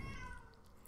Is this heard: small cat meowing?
yes